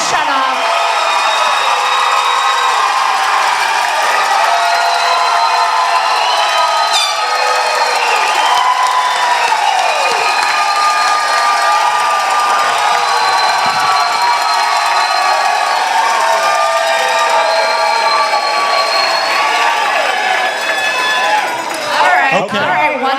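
A crowd at a dance competition cheers, shouts and claps for a contestant, a dense sustained roar with high whoops and screams carrying on for over twenty seconds.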